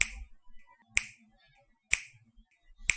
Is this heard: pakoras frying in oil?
no